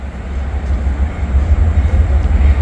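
A train led by two locomotives passes the Sharon Road crossing in Glendale with a heavy, close, low rumble that swells slightly toward the end.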